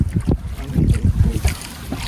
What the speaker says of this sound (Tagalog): Nagkakagulo yung alon pag umiikot yung hangin.